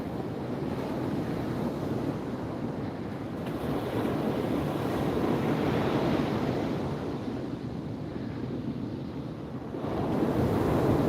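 Ocean surf rolling onto a New Jersey beach with the tide coming in, a steady, close wash of breaking waves and foam mixed with wind buffeting the microphone, continuous for the whole stretch with no talking.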